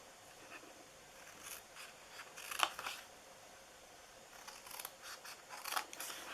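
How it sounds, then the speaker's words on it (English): Scissors snipping through paper along a score mark for a treat box, a few quiet crisp cuts in irregular clusters, close but faint. "So you're going to cut down to the second score mark."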